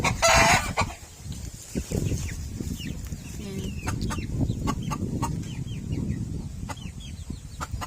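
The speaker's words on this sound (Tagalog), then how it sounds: "Chinese chicken ko na binili na" Chinese-breed chickens in a backyard flock of five cluck repeatedly at close range, opening with a loud crow-like call, then scattered short calls over a steady rustling farmyard background.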